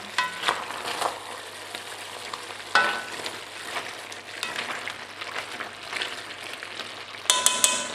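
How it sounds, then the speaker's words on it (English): Carnitas pork frying in its own fat in a pot while being stirred and scraped, a steady close sizzle broken by scraping and clanking of the utensil against the pot, no voices. "This has been cooking for about an hour. I've been flipping the meat over, scraping the stuff from the bottom"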